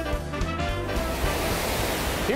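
Mesa Falls, a waterfall dropping over 114 feet on Henry's Fork of the Snake River in eastern Idaho, gives a steady broadband roar of falling water that stays constant and fairly close throughout.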